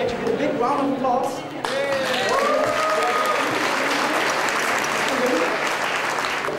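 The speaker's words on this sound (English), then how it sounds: "Christine, you can join me on stage with a big round of applause" A live magic-show audience applauds as a volunteer joins the performer on stage, steady crowd clapping mixed with voices and stage sounds, and a performer's voice is heard speaking over it early on.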